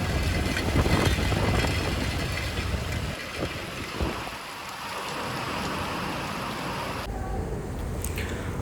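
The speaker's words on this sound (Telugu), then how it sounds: "12 గంటలు పడ్డది వర్షం, పడుతూనే ఉంది 12 గంటలు." Heavy rain pours down on a poultry farm during a storm lasting about twelve hours, a loud dense roar with a deep rumbling undertone, briefly easing midway before the steady downpour returns.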